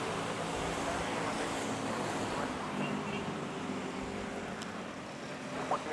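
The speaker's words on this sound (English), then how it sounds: "you have to hear the traffic, the motorcycles, and the occasional rooster" Street traffic with motorcycles in Manila, a steady broadband rumble that stays even and moderately distant throughout, with no clear single vehicle standing out.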